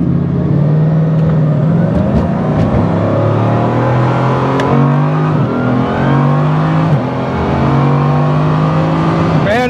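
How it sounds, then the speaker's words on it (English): Bugatti Divo hypercar accelerating hard on a quarter-mile drag test pass, a loud continuous engine roar climbing through several gear shifts, heard from close by with no talking. "I'm in the Bugatti Divo. I'm gonna make a test pass."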